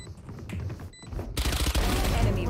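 Shotgun blasts in the shooter Valorant, a loud close burst of gunfire erupting after quieter game sounds, with a voice talking over the action.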